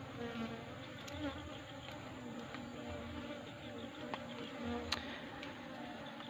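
Bees buzzing continuously around a hive box, a droning hum with a few sharp ticks and knocks scattered through it.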